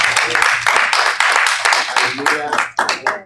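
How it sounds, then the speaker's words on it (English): Church congregation clapping their hands after Sunday morning preaching, a dense, loud burst of applause with voices cheering over it, fading briefly near the end before picking up again. "clap your hands for them both."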